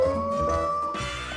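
A human voice imitates a dog howling, holding a thin, sustained wavering tone that drifts upward in pitch over a second or so, near and fairly quiet.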